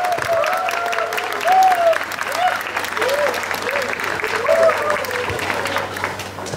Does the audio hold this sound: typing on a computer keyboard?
no